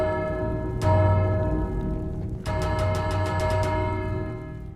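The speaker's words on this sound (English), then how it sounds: "Oh, and don't forget to ring the bell at the top." A bell at the top of a sea fort in a video game rings loud and bright, one strike and then a rapid run of repeated clangs that ring out over a low background hum.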